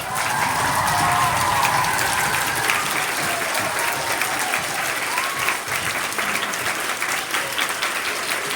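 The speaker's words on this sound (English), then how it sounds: "Let's give her one last round of applause." A school assembly audience of students and teachers gives a sustained round of applause, dense continuous clapping that stays loud and even from start to finish with a few cheers mixed in.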